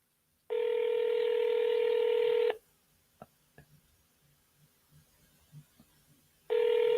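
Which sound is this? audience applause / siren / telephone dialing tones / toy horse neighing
telephone dialing tones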